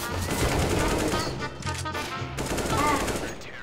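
Rapid automatic gunfire rattles in Counter-Strike, a loud, dense burst of shots in quick succession with a few distinct pops, close and continuous for several seconds.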